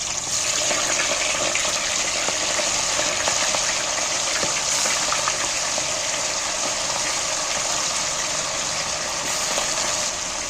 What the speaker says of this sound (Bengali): মাংসটা আমি এবার তেলের মধ্যে ছেড়ে দিচ্ছি একটা একটা করে ভেজে নেব